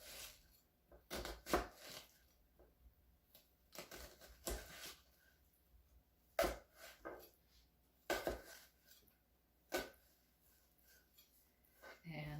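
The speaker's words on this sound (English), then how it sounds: "So I'm just going to take my knife and cut down in wedges," A knife cutting a tomato into thin wedges on a board, with soft irregular taps and chops in scattered bursts, fairly faint and close.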